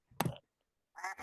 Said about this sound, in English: Yeah, that was a duck.